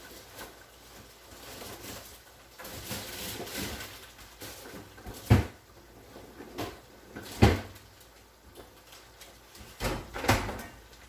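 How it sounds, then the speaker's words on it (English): A kitchen door or cupboard is handled while manicotti is being prepared, with several sharp knocks and bumps spread over the stretch amid soft background noise and no talking. "We can get the door open."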